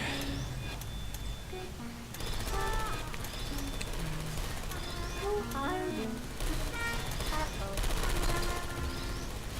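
Turrets firing in the video game Portal 2, rapid bursts of gunfire crackling over game effects and ambient tones, several volleys spread across the scene at moderate level.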